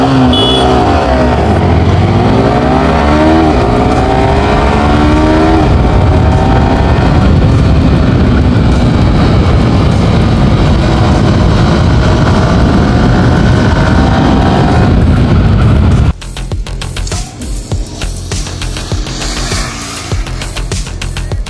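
A motorcycle ridden at high speed, over 130 km/h, gives a loud, steady roar of engine and rushing wind close to the rider, which drops suddenly to a lower, choppier level near the end, with no talking.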